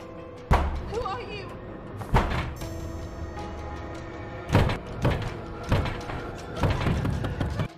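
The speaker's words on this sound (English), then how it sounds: "She then hears knock on the door." Knocking and thuds on a door in a scene from the 2022 horror film The Kindred, several heavy separated blows spread across the stretch over a low background.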